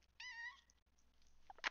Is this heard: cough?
no